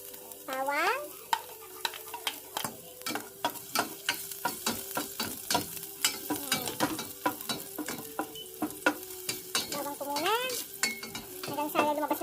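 Garlic sautéing in hot oil for chicken sopas, a steady close sizzle broken by repeated clinks and scrapes of a utensil stirring in the pan.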